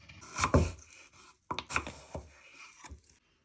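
A knife cuts through peeled Bramley cooking apples in a series of crisp, close chops and slices, with a few louder strikes at the start and softer cuts after a short pause, and no voices.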